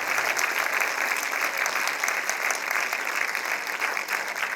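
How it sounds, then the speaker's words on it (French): Audience at a school theatre play gives sustained, dense applause, many hands clapping steadily and loudly without pause, filling the room evenly from start to finish. "ils ont eu le droit à beaucoup d'applaudissements du public"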